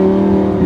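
Lamborghini Gallardo with a single-clutch automated manual gearbox pulling away under throttle, giving a steady, loud, close engine drone with strong low harmonics and no voices.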